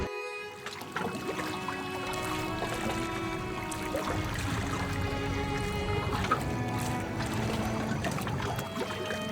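A boat ride on the river at Dashashwamedh Ghat, Varanasi, carries a steady drone and soft water trickle, with muffled background sounds and tonal hum throughout.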